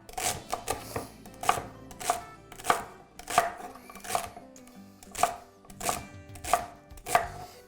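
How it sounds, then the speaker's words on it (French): Celery chopped with a knife on a cutting board, a series of sharp, evenly spaced close knocks with quieter taps between, no talking. "Donc, je vais couper."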